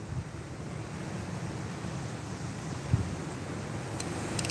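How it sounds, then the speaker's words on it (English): Strong wind buffets the microphone outdoors during a fishing outing, a constant low rumble and roar throughout with a brief thump near the end. "Oh, this wind is insane."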